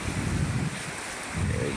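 Sea waves and wind at a rocky shore in Agno, Pangasinan, a loud continuous wash of surf with wind buffeting the microphone, swelling at the start and again near the end.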